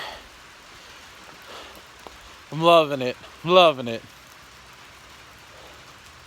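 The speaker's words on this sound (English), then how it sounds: "It's pouring down raining." Heavy rain pours down outdoors as a steady, soft wash of noise through the whole stretch, while someone speaks briefly over it near the middle.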